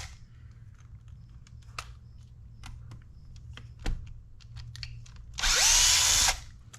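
A power tool on a Traxxas Sledge motor mount whirs in one loud burst of about a second as it breaks loose threadlocked screws, after scattered small clicks and taps.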